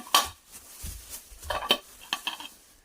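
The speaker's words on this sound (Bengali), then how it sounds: "এইগুলো ছোট ছোট প্লেট" Small plates handled in a kitchen, a scattered series of light clinks and clatters at close range with short gaps between them.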